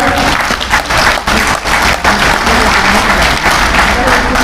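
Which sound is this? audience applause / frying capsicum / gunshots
audience applause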